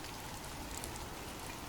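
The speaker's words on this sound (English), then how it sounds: "The sound of abundant rain." Steady, dense rainfall pattering on surfaces, a continuous hiss of many drops, evenly loud throughout with no voices.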